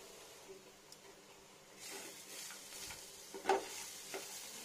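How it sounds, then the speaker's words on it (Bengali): Food fries in a pan with a soft, continuous sizzle that swells midway, with light stirring clicks and one louder scrape near the end, fairly quiet and without speech. "frying frying frying"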